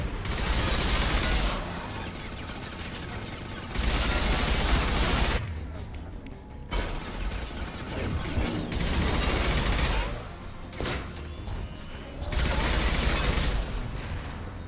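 Weapons fire in Mass Effect Legendary Edition comes in heavy, dense bursts of rapid shots and booms that stop and start several times. It plays loud and close, with brief quieter gaps between volleys.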